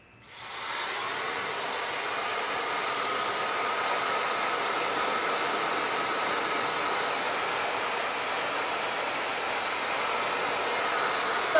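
A hair dryer fitted with a nozzle blows steadily on wig lace at the middle part, starting abruptly and holding a loud, continuous airy rush close up without any talk.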